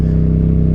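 A 2025 Yamaha MT-07 motorcycle engine rumbles loud and close in a steady deep throb, held briefly and alone.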